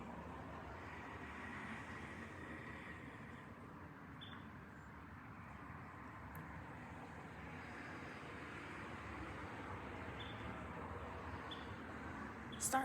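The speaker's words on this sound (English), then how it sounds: "I can hear the cars moving." Distant cars move along a road outdoors, a faint, steady low rumble of traffic running unbroken throughout with no voices.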